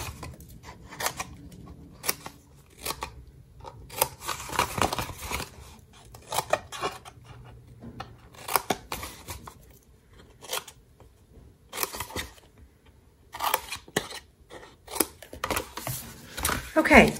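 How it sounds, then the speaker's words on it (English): Scissors trimming the cardstock tabs of a scallop-top gift card box, with repeated short crisp snips in irregular bursts, close and fairly quiet, with occasional talking between cuts. "And then I want to trim the tabs."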